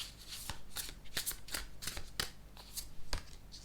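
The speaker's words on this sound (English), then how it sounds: "I'm going to shuffle again." Tarot cards being shuffled by hand, a series of crisp riffling bursts and slaps at an uneven rhythm, close and clear with no talk.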